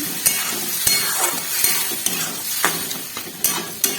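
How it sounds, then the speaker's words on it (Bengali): Lentil tadka being stirred and fried in a pan: a continuous close sizzle broken by sharp, irregular scrapes and knocks of the spoon against the metal. "এবার আমি এটাকে ভালো করে কষিয়ে নেবো"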